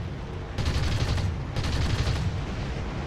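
Guns on a Ta-152 fighter plane in War Thunder simulation mode fire two sustained bursts of rapid, loud rattling, with a steady engine roar underneath.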